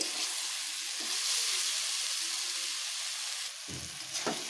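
Wax gourd and small mourola fish are sautéed in a pan, a soft, continuous hiss of frying that dips briefly near the end as a few quiet stirring knocks sound, with no voices.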